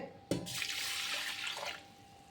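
Split moong dal being washed in water, a close splash followed by a soft continuous swish of water that fades out after about a second and a half.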